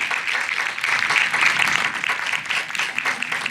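The graduating class of 2021 at a New Dorp High School ceremony claps together, an even wash of many hands at moderate distance, continuous and without speech.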